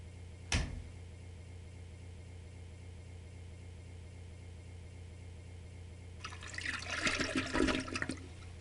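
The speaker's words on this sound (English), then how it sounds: "That is like the weakest flush I ever heard on a toilet" A weak toilet flush in the game Amber: Journeys Beyond: a sharp click comes early, a long quiet hum follows, then a short, soft gush of water drains away near the end, with no talk.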